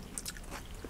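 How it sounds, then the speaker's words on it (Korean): Close, quiet biting and chewing of octopus, a few moist crunches and soft mouth sounds in quick succession over a low, windy background by the sea. "아 맛있어요. 문어"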